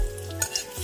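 Asafoetida and bay leaf fry in hot oil in a pan, giving a soft, steady sizzle with a couple of brief scraping stirs, short and close.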